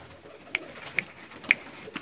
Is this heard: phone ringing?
no